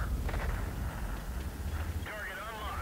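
Heavy cannon of a T110E5 tank fires in World of Tanks, one booming low-frequency blast with a rumbling tail, followed by a whining sweep as the round travels.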